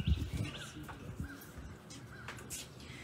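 Crows caw outdoors around a church service, with several harsh calls and some faint chirps spread over a few seconds against a soft background.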